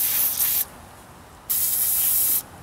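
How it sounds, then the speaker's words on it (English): Aerosol spray can of penetrating lubricant spraying a brake line fitting: two loud, close hissing bursts, each under a second long, separated by a brief pause. "we'll give her a good spray of"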